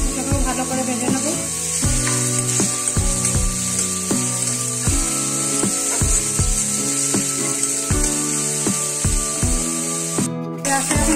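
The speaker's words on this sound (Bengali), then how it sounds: "এর মধ্যে দিয়ে দেবো রসুন কুচি, একদম গ্রেট করা, মিহি করে গ্রেট করা রসুন কুচি। এটাকেও ভালো করে ভেজে নেবো।" Onion and finely grated garlic fry in a pan for a vegetarian soya keema, giving a steady close sizzle broken by regular scraping and tapping strokes of a spoon stirring.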